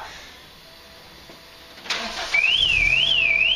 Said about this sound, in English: So only when you get in it and start the engine does it think it's being stolen.